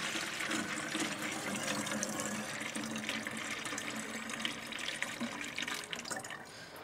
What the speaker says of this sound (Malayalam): 1 ലിറ്റർ വെള്ളം ഇതിനകത്തേക്ക് ഒഴിക്കുവാണേ.